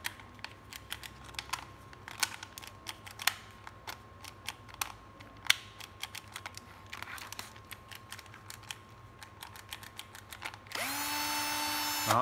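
A used Japanese cordless drill, Bosch or National, with a dirty trigger: several seconds of scattered clicks and taps as it is handled, then the motor whines up into a steady high-pitched run near the end.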